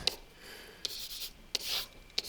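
Pen or marker scratching across a surface while a math problem is written out, with four short sharp taps between soft rubbing strokes, quiet and close, no talk.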